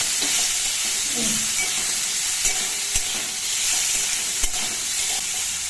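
Marinated shrimp fry in a pan with a steady, loud broadband sizzle and a few faint stirring knocks, without speech.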